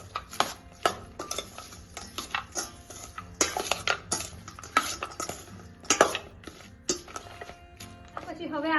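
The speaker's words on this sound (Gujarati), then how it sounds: "હવે આપણે આ બધી વસ્તુને એકદમ સરસ રીતે મિક્સ કરી લઈશું" Sabudana khichdi is stirred together with powdered sugar in a pan. Irregular clinks and scrapes of a spoon against metal repeat close up, with a faint voice now and then.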